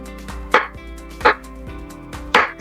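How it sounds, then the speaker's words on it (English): A knife cuts thin slices from an apple held steady with a fork, giving three crisp, evenly spaced chops against a board over a low steady hum. "Stick it to the apple, like that. And then just cut."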